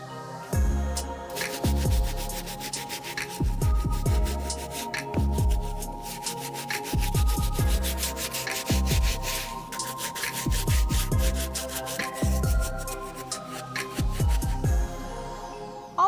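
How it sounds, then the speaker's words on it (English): Medium bristle brush scrubbing the midsole and stained spots of a Nike Dunk Low sneaker, a steady run of close, rhythmic rubbing strokes with no talking. "Let's move on to the medium bristle brush and hit the deeper staining as well as the dark spots and this midsole."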